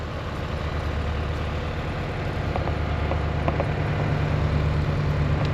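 A farm tractor engine runs steadily at a low idle, a loud continuous rumble close by with a few faint clicks over it and no talking.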